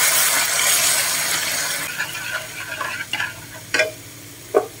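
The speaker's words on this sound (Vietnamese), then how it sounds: "Bây giờ cái xả với ớt này nó cũng vàng rồi, mình sẽ cho tương hột vô." Lemongrass and chili fry in a pan for a Vietnamese vegetarian tofu dish, a steady close sizzle with stirring, then fermented soybean paste goes in, and sharp utensil clinks and scrapes punctuate the quieter frying.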